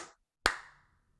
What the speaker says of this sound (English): clap again. All right, clap.